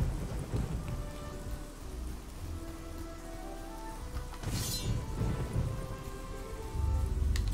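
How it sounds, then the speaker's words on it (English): Video game steady rain hisses over a low, rumbling roll of thunder, with a deeper boom swelling near the end; no voices, just the storm at moderate distance. "Now it's raining."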